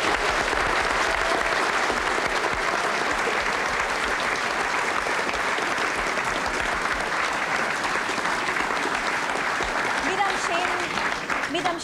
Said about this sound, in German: Ich glaube, das ist so ein Applaus wert.